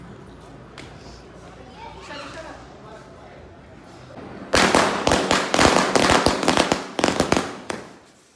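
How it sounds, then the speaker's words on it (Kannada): At a Diwali celebration, a rapid string of loud firecracker bangs bursts out after a few seconds of quieter crowd chatter, cracks coming in quick irregular succession. "ಗಾರ್ವಿಕ್ ಹೆಂಗ್ ಇಡ್ತಾವ್ನ ಪಟಾಕಿನ ಅಲ್ಲಿ ನೋಡಿ ಅವನೇ ಅಟ್ಟಿಸ್ತಾ ಇರೋದು"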